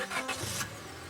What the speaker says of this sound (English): the car cuts along the darkened road